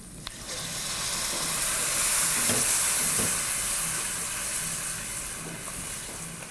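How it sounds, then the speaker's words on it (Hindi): Cashews frying in a pot of Bohri-style chicken curry give a loud, continuous hiss and sizzle that swells and eases over several seconds, with a few faint knocks beneath and no voices. "ये गए काजू, काजुओं को भी ज़्यादा नहीं पकाना है"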